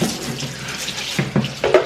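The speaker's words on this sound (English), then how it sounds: "now we need to wash up" Tap water runs steadily into a kitchen sink while dishes and chopping boards are washed up during home cooking, with a few soft clunks and splashes near the end, no voices.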